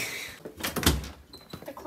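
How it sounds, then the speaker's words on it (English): A bedroom door bumps and clicks shut in a short cluster of knocks near the middle, close and moderately loud, with quieter handling noises afterward. "I closed my door."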